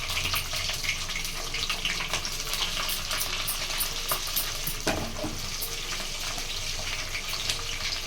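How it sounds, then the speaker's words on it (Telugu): Chicken fries in oil and ghee while being stirred, a loud, dense, continuous sizzle close up, with occasional scrapes and a sharper clatter near the middle. "సో చికెన్ అయితే కలుపుకోవాలి."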